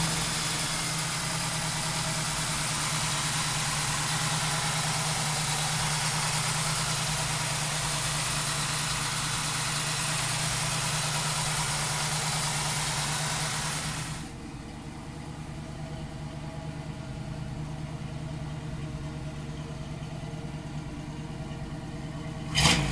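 1968 Chevrolet Camaro convertible big-block engine idling loudly with a steady, deep lumpy rumble for about fourteen seconds, then a sudden drop to a quieter idle and a brief sharp burst at the end.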